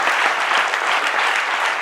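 A studio audience at a sports talk show bursts into loud, sustained applause, dense clapping that continues steadily throughout with no voices on top.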